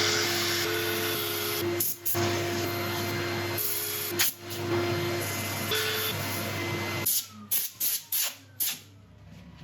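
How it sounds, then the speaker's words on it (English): Sandpaper works a woodturning piece spinning on a lathe, making a continuous close hiss over the motor's steady hum. Brief gaps break it, and it ends in a series of short, choppy bursts. "I'm going to set up for sanding. I'll let you watch a bit of it"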